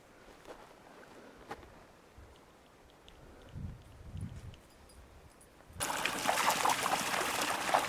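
A mountain stream on the Cottonwood Lakes trail, heard as a faint trickle at first, then rushing water that swells abruptly and stays loud and close until the end.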